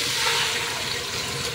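Water poured into a pot of pork ear sinigang seasoned with salt and pepper, a steady close splashing rush filling the whole clip without voices.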